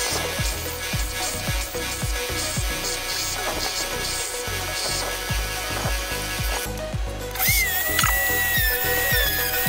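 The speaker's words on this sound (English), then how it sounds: "To drill the hole, I use a spherical" A high-pitched rotary tool with a spherical diamond burr grinds steadily into jadeite jade with a rapid rhythmic chatter underneath, close and continuous for several seconds.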